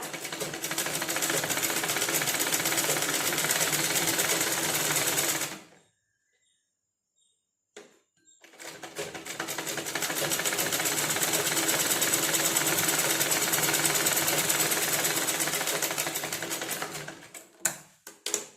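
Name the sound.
sewing machine stitching lining onto blouse cloth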